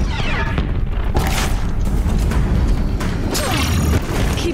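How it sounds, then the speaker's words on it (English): Deathbringer machines fire and explosions boom in the Horizon Zero Dawn video game, a dense, loud barrage of blasts, crashes and whooshes that runs continuously throughout. "If the Deathbringers keep firing, this bridge will go."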